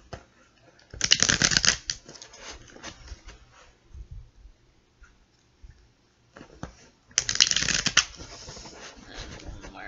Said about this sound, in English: So I think we have about 3 more shuffles.